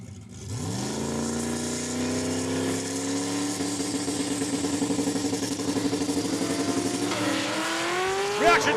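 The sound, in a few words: drag racing Chevy Camaros launching down the strip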